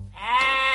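A single sheep bleat, close and clear, rising into a wavering, nasal baa that holds steady to the end.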